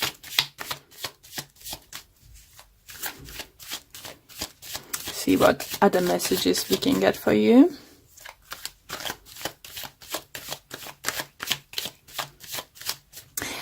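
Tarot cards are shuffled by hand in a rapid, crisp riffling rhythm, close and clear, with a stretch in the middle where someone talks over the handling.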